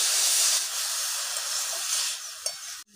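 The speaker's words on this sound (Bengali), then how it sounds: "এই কড়ার মধ্যে আমি অল্প করে একটু তেল দিয়েছি, তেলটা গরম হোক, গরম হয়ে গেছে। এবার মূলের শাকগুলো ঢেলে দেবো" Radish greens tipped into hot oil in a wok set off a loud, steady sizzle and hiss that eases slightly as it goes on, then cuts off sharply near the end.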